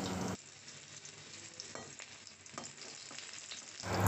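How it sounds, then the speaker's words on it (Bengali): Bitter gourds (karela) frying in oil in a pan, with a quiet, continuous sizzle broken by light stirring clatter and occasional crackles, all alone without voices. "করলাগুলো যখন খুব ভালোভাবে ভাজা হয়ে যাবে"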